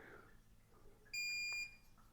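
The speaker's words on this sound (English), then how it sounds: "so it's beeping" An Outin Nano portable espresso maker gives one bright electronic beep of about half a second, clear and close over a faint background hum.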